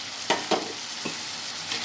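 Chili powder is stirred into a country chicken curry frying in a pan with ground coconut and cashew paste, giving a few soft scraping, sizzling strokes over a steady low frying hiss.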